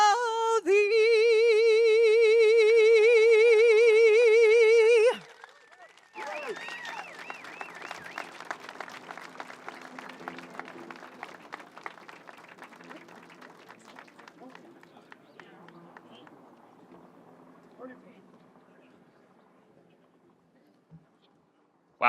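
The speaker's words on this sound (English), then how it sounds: "Give her another round of applause." A sustained sung final note gives way to a crowd applauding outdoors at a bridge opening celebration, dense clapping that gradually thins and fades over many seconds.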